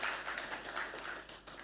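Faint, steady applause from an audience at a formal launch event for the Indonesia Open Network, greeting an introduced ambassador as a dense wash of clapping that runs throughout.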